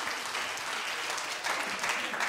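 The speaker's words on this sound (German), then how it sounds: "Applaus." Applause from the audience at a children's choir concert with a radio choir, a dense, even roar of clapping that runs throughout and swells slightly near the end.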